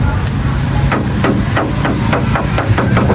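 Someone knocks on the body panels of a 1990 Honda Civic EF, about a dozen sharp, evenly spaced raps over a low background hum, close and loud.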